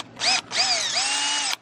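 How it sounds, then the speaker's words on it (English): A power drill fitted with a sponge attachment whirs in short bursts: a brief spin, a pause, then a longer sustained run that stops abruptly, loud and close with no talk. "Go get your drill, borrow a drill like I did, and put the sponge on it."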